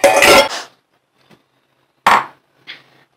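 Cooked food is ladled from a pot into a bowl, giving two brief scraping, clattering bursts of metal on crockery with a faint clink after each and quiet gaps between.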